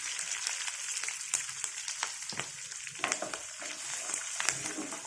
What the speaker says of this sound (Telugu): దీంట్లో కరివేపాకు, పచ్చిమిరపకాయలు అన్నీ వేస్తున్నామండి. ఇంగు వేస్తున్నాము.